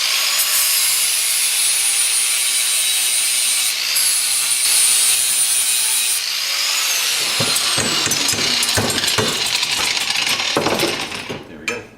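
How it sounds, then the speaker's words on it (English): Angle grinder grinding away welds on a metal pipe on a Sabre cafe racer motorcycle project, a loud steady high whine for about six seconds, then rougher scraping and chattering grinding before it winds down at the end. "So I've got to grind away 2 welds here to get this off."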